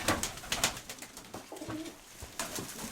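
An old pigeon in a rooftop pigeon loft coos softly nearby, low murmuring calls repeating over a faint rustling background.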